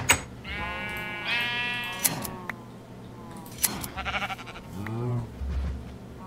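Sheep in a video game bleat several times in quick succession, loud and close, the wavering cries overlapping one another with some brief background noise between them.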